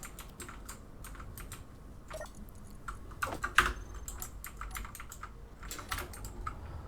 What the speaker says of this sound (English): So soon your ears will be assaulted no more by the sound of my keyboard clacking.